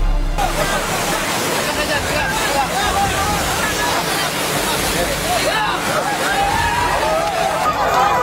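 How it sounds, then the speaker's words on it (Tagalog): Rushing floodwater roars in a loud, unbroken wash of noise while a crowd of voices murmurs and calls over it. "Sa gitna kasi ng rumaragasang tubig,"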